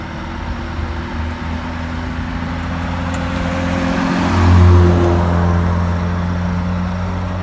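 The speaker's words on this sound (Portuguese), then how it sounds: "esperar esse veículo passar" A road vehicle passes close by on a road near an idling truck, its engine rising from a steady drone to a loud swell near the middle before easing off. No one speaks.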